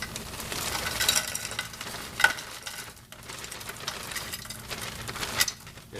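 Chopped onions sizzling and crackling in a hot pan as they start to caramelize for a spaghetti sauce, a continuous close fry with stirring scrapes and small bursts throughout.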